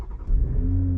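A Toyota Supra engine fires up and revs, a loud low rumble that swells after a brief starting crank and then holds steady close by, with no talking.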